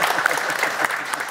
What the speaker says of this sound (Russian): Артем Колесников, ваши аплодисменты.